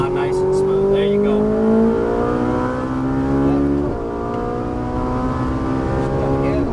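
A Ferrari 458 accelerates hard on a racetrack, its loud, close engine note climbing steadily in pitch, then dropping sharply at a shift before pulling upward again.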